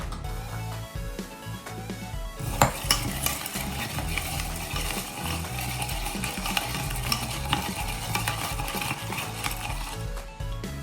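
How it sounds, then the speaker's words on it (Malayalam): A cocktail being mixed with crushed ice: continuous close stirring with clinking, rattling ice and spoon against glass, busy and steady throughout, with no talking. "കുറച്ച് ക്രഷ്ഡ് ഐസ് ആഡ് ചെയ്ത് നന്നായി മിക്സ് ചെയ്യാം"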